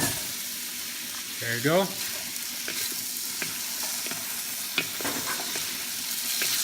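A bihon pancit noodle mix fries in a pan, its steady loud sizzle broken by scraping stirring strokes and a couple of clicks, while a person speaks briefly.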